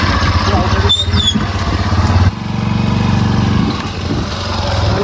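A motorcycle engine runs close by with a rough, buzzing drone that dips and revs, with short faint voices in the background.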